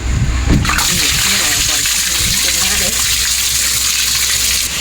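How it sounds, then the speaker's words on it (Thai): Water gushes loudly and continuously out from under a clogged kitchen sink once the pipe beneath is opened, with someone talking over the flow. "เดี๋ยวเราก็จะเปิดตรงนี้ ให้น้ำมันไหลออกก่อน"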